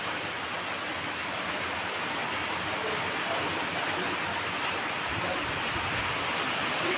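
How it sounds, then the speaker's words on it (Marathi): Steady rain falls outside a house during a light rainstorm, heard as a continuous, even hiss that holds at the same level throughout with no voices. "ऐका पावसाचा आवाज"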